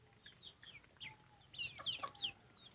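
Chickens cluck in short, bright bursts, a few calls close together and growing louder toward the end, with no voices over them.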